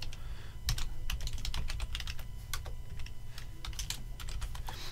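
Steady, rapid typing on a computer keyboard while company details such as name and address are entered, with dense clustered clicks throughout and no voices.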